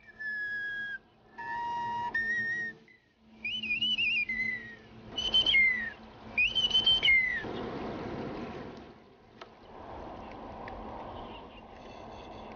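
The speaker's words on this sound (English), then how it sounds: "the bone flute creates its otherworldly sound." A bone flute carved from an animal shank plays breathy, bending high notes in short phrases separated by pauses, followed by a soft wash of trickling water in the background.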